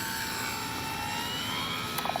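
An RC Dynam ME BF-109 model warplane makes a low pass, giving a steady, fairly faint droning whine that holds for about two seconds, with a few small ticks near the end.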